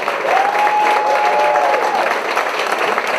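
Live audience applauding a radio-play ensemble at a live stage performance, steady dense clapping throughout, with a faint sustained tone running beneath the middle of it.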